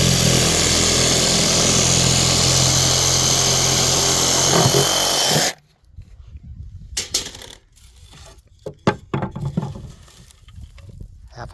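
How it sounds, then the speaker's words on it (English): A reciprocating saw cuts through a flake of alfalfa hay held in a 4-H cutting jig, a loud steady buzzing drone that stops abruptly about halfway, followed by quieter rustling and handling noises. "Grab my trusty little reciprocator."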